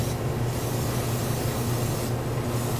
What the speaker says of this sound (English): spray at about this distance, and do a blending spray